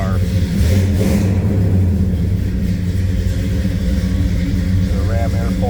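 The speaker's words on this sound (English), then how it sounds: "It's a good sounding car." A 1970 Pontiac GTO convertible's V8 engine rumbles and revs steadily up close, a deep throaty drone that holds for several seconds.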